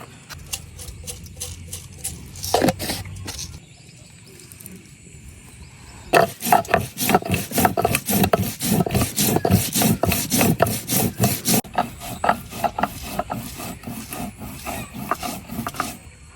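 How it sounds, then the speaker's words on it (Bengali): Cumin seeds are ground by hand on a grinding stone, producing rough, rhythmic rasping strokes back and forth, close and loud, pausing briefly before resuming in a steady fast scraping run. "তো আমি জিরাটা এখন বাইটে নেই।"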